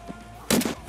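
A single sharp gunshot from an Escape from Tarkov player's rifle bursts loud and close midway, after a brief faint murmur of speech.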